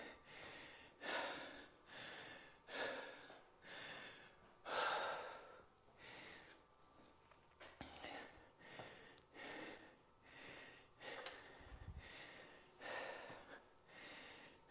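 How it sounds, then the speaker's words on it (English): A person breathes hard after a high-intensity interval workout, with about a dozen loud, rhythmic gasping breaths in and out, close to the mic and heard alone without talking. "You should be breathing really hard like I am."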